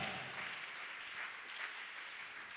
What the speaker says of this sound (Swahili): Piga makofi na vigelegele kwa Bwana.